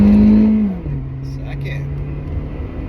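Acura RSX engine pulling in first gear, revs rising to a steady tone before dropping into a lower, even drone, with a voice speaking over it.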